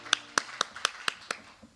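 A handful of crisp hand claps ring out at a Korean education award ceremony, about seven evenly spaced slaps over two seconds, fairly faint and sparse like a few people clapping rather than a full crowd.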